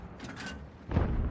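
Self-propelled artillery cannon firing in World of Tanks, a Crusader 5.5-in. SP, heard as one sharp, loud report with a rumbling tail near the end, preceded by quieter mechanical creaks.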